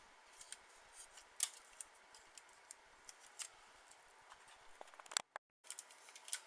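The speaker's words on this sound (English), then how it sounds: "run them through the die cut machine" A manual die cut machine for paper crafting runs stacked plates with a paper die through, producing faint, irregular ticks and crisp clicks over a quiet background, with a sharp crank noise and a brief gap near the end.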